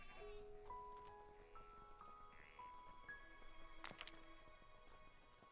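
Sheep bleating in the video game Craftopia, a few short tonal calls rising in pitch over a steady game music and ambient bed, with a sharp hit near the end.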